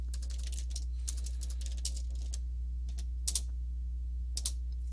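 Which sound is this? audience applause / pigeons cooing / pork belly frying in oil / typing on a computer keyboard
typing on a computer keyboard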